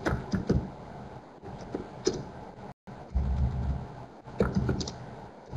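Computer keyboard typing during an online session, with a run of quiet irregular key clicks in bursts, fairly close, alone with no talk.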